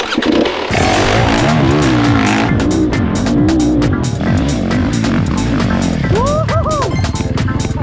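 In a video game, a 4-stroke engine revs hard while climbing a steep hill. The loud, close engine note rises and falls continuously over the whole stretch, with a brief tire squeal and a sharper rising whine near the end.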